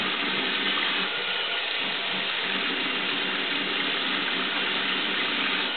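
Water from a tap running steadily into a sink to rinse a razor during shaving, a continuous close hiss with no pauses.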